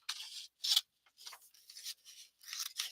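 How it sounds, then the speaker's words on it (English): Scissors snipping through craft material for a book or box project, several separate close cuts with short pauses between them, no talking. "So I'm just going to cut it"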